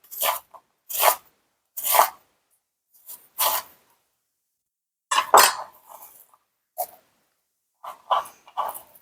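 A knife slicing through a cucumber, cut in half, on a cutting board, with about a dozen crisp, separate cuts coming in irregular bursts. The strokes are close and fairly loud, with short silences between them.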